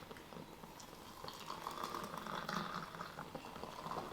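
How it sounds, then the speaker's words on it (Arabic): Water boils in a pot outdoors in a snowy storm, a steady bubbling roil with soft pops that swells slightly louder midway and keeps rolling without speech. "وهذا المي صار عندنا يغلي"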